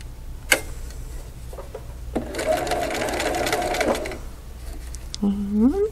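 A sewing machine stitches a Double Wedding Ring quilt piece cut with a Slit 'N Sew template, running in one steady burst of about two seconds, with light clicks before it and a short squeak after.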